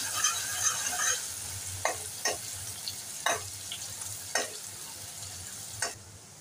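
One large, finely chopped onion fries in a pan for Ratnagiri-style kombdi vade, a continuous soft sizzle broken by a handful of sharp spatula scrapes and clicks as it is stirred at irregular intervals.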